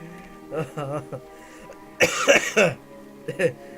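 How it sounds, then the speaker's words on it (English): A sick man coughs several times close to the microphone during gameplay commentary, with short voiced sounds between the harsh bursts. "Sorry if I cough a lot."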